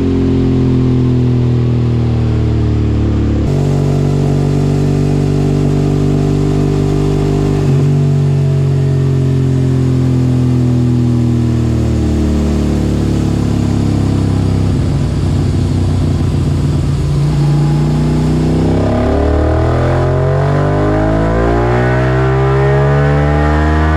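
A Suzuki SV650 twin-cylinder motorcycle running lean on a dyno during power runs, its engine revving loud and close with rising and falling pitch sweeps through repeated pulls.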